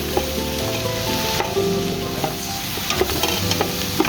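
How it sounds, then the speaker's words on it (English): Mushrooms frying with vegetables in a pan for a vegetarian pasta bake, giving a steady close sizzle with scattered scraping stirs and light utensil taps throughout. "we're going to add in our mushrooms. Okay, so we're just going to let that cook off"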